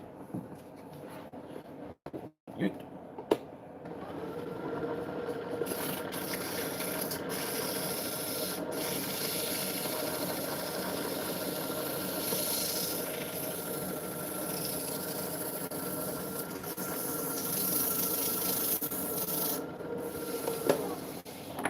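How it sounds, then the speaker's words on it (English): Steady, continuous rasping of sandpaper rubbing across wood, close and fairly loud, broken only by a couple of brief pauses near the start. "A little bit of sanding in there."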